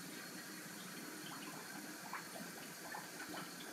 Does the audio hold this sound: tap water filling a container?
yes